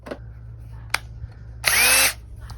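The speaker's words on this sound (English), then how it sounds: "and I'm using just a regular drill," A regular corded drill fitted with a masonry bit bores briefly into brick for a trellis build, a short loud whining burst after a few faint clicks and taps.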